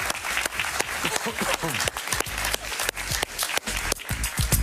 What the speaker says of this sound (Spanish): Un aplauso para Manuel Rincón.